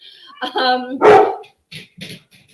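A dog barks excitedly indoors, loud and close, giving a drawn-out yelping bark followed by a few short sharp barks.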